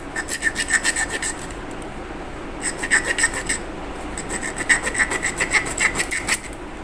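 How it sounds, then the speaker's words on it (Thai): A hand saw cuts with rapid back-and-forth rasping strokes in three bursts separated by short pauses, close and fairly loud, during repair of a cracked fan. "แต่ต้องตัดนะครับด้วยเลื่อยนะครับ"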